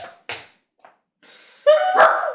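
Dogs barking and yipping indoors: a few short sharp barks with gaps between, then a louder burst of tonal yelps and whining near the end, close by and with no talk over them.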